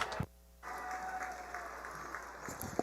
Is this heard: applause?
yes